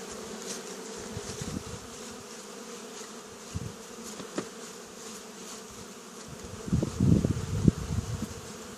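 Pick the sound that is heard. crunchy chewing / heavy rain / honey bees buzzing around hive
honey bees buzzing around hive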